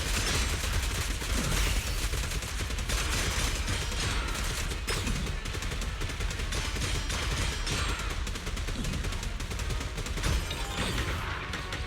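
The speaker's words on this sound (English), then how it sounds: "After the muzzle flash, release attack to fire a guided missile." A video game gun fires guided missiles in a dense, continuous barrage of blasts and crashes, loud and close, with no pause across the whole stretch.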